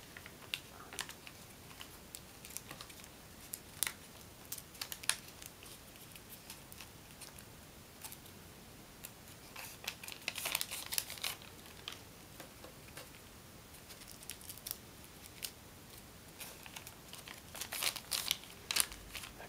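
Origami paper folded by hand while shaping a hummingbird model, with soft crinkles and small taps that come and go quietly in short bursts.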